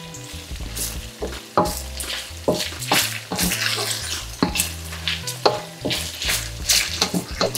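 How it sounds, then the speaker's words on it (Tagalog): Pork belly frying in its own rendered fat over high heat, a crackling sizzle broken by repeated scraping and clanking strokes of a spatula in the pan, close and steady with no talk. "lulutuin natin pa to sa sarili niyang mantika. Naka-high heat pa rin ako dito ha. Halo lang tayo ng halo dito"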